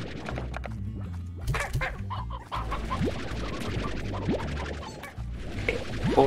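Chickens clucking and squawking in the Slime Rancher video game, several birds making repeated clucks over a continuous low game background.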